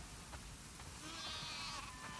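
Faint sheep bleats from the video game The Last of Us Part II sound a few times over a soft background hiss, quiet and somewhat distant.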